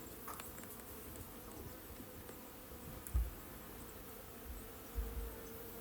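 Honey bees hum steadily around an opened long mini nuc hive during a split, a dense continuous buzz with a few soft knocks from handling the combs, fairly quiet and without speech.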